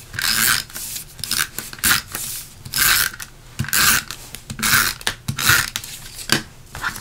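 A Stampin' Up! Snail adhesive tape runner rolls across a card front in a series of short, close scraping, ratcheting strokes with brief pauses between them.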